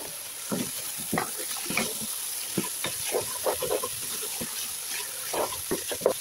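A spoon stirs and scrapes rice with ginger and garlic in a frying pan for vegetable pulao, with a soft sizzle under repeated close, irregular scraping strokes.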